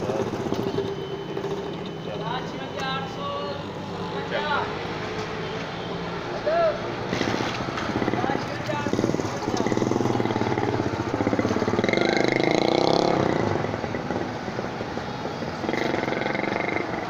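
A motorcycle engine runs steadily with rising and falling revs, heard close under ongoing conversation between men.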